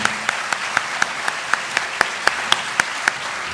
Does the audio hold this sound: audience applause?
yes